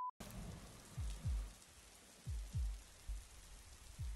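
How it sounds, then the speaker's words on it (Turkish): Rain and storm ambience in a horror video game, a constant soft hiss of rainfall broken by repeated low thudding rumbles roughly every second, with no talking. "Ya hava yağmurlu, fırtına var."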